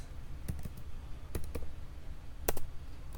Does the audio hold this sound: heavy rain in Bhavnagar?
no